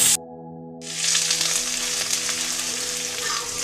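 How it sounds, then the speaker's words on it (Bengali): Garlic and ginger paste fries in hot oil in a pan, a bright steady sizzle that bursts in after a brief hush and holds loud and close, with faint stirring and no talk. "1 চামচ রসুন বাটা, 1 চামচ আদা বাটা দিয়ে আবার কিছুক্ষণ"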